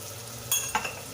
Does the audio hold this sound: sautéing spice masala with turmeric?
yes